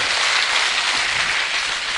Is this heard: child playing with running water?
no